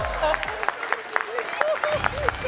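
Applause breaks out at the TwitchCon 2019 cosplay contest for the FX category winner, scattered claps under a voice on the PA, fairly loud and brief.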